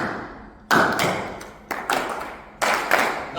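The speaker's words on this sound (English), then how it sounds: "Let's go single clap and double clap." An audience team at an educators' awards event claps in unison in a spaced pattern, loud sharp single and double claps separated by short pauses.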